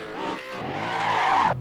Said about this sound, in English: So you will hear the tires squeal even in third gear.